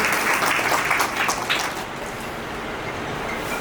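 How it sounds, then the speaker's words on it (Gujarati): Audience applause at a community seminar welcoming students, a loud burst of clapping that gradually thins and softens over a few seconds. "જોરદાર તાળીઓ વિદ્યાર્થી વધાવી લઈએ."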